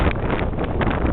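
Strong wind buffeting the microphone on a snowy high mountain pass in deep snow, a steady roaring gust filling the whole moment with no pauses.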